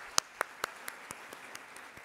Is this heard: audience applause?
yes